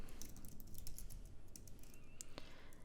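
Soft, quick keystrokes on a computer keyboard while entering terminal commands, a short run of light clicks, faint and close, over a low background hum.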